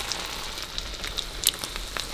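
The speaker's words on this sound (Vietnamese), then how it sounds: "Mình bỏ thêm mấy con cá vô chiên nha." Small fish dipped in beaten egg are shallow-fried in a pan, crackling with a dense patter of spitting oil pops like rain, steady and close, with a few sharper snaps.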